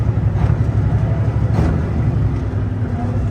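Truck engine held in fourth gear descending a mountain at about 35 mph, a loud low rumbling drone, engine straining at high revs, steady throughout the short stretch.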